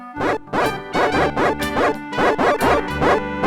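Dog barking in the Monkey Island 2 video game, a rapid run of about eight loud, close barks in steady rhythm with no talk.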